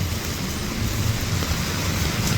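Heavy rain pours steadily in Jaffna during flooding, a dense and even roar of falling water that stays constant with no voices.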